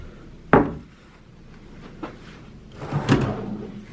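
Hotel room drawers at a Holiday Inn in Washington, DC slide and knock shut, a sharp wooden thump followed by a faint bump and a rumbling second close, near and without talk.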